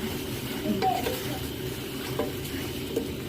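Chicken sizzles and gets stirred in a pan with onion, garlic and ginger, the frying hiss steady beneath a few scraping utensil clinks, with talking heard faintly in the background.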